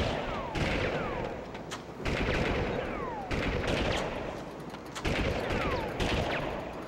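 Rapid gunfire rattles through the Army Men 3D video game in dense repeated bursts, loud and continuous over several seconds, each volley starting with a sharp attack and decaying into a rolling noisy tail.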